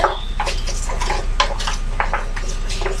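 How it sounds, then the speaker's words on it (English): A spoon stirs chicken burrito filling in a pot set over medium-low heat, giving a run of light scraping and clinking strokes at a steady rhythm, close and moderately loud, with a faint background hum and no voices. "Now I'm going to first give this a good stir."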